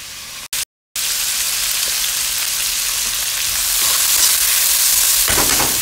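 Food frying in a pan while coconut couscous cooks, a steady close sizzle with a brief dropout near the start, then continuous crackling that swells slightly toward the end.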